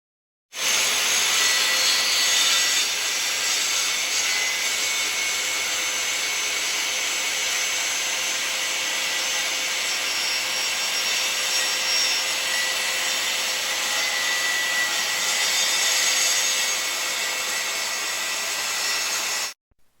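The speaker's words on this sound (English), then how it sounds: "run the saw blade through each subsequent work piece line of travel" A saw blade cuts diagonally through a hardwood plywood workpiece in one long, steady, harsh whine that runs unbroken for about nineteen seconds, then stops abruptly.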